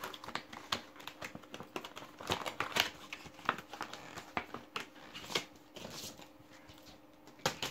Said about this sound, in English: let me just try and take it out the packaging